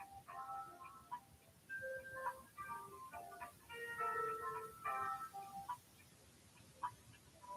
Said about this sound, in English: got a little hold music here.